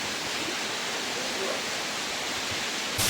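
A small waterfall in a narrow gorge makes a steady, dense rush of splashing water, close and continuous with no pauses.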